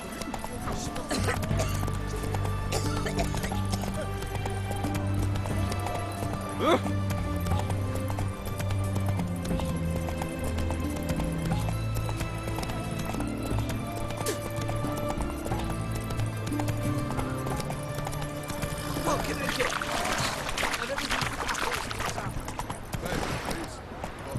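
Hooves of the horse Roach clip-clop at a steady gallop in The Witcher 3, carried along under a continuous music bed with a brief whinny and a voice speaking over the ride.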